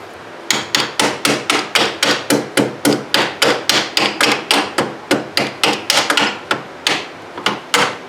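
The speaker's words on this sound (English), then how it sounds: "just hammer it home" About two dozen sharp, loud hammer strikes ring out in a steady rhythm, metal on metal, as a bolt is hammered into place during a track replacement on a 2010 Arctic Cat Z1 Turbo snowmobile, with no one talking.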